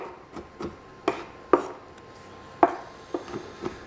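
A knife chops garlic finely on a cutting board for beef stew, with sharp, irregular taps spaced apart, fairly close and quiet, with no talking.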